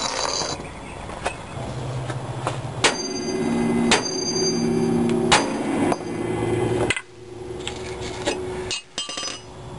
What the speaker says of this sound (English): Just need a bigger hammer, that's all.